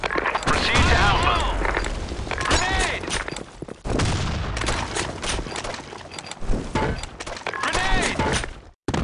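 Gunfire and a grenade blast in a first-person shooter, a dense run of shots and crashing impacts with no pause, while voices call out over the action.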